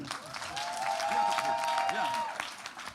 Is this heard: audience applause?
yes